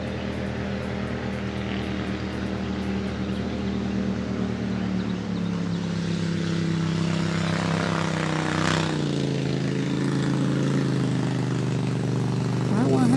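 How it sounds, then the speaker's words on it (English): Two motorboats pass outdoors with a droning engine hum that grows louder and shifts in pitch as they go by, holding steady to the end. "I think it's 2 boats."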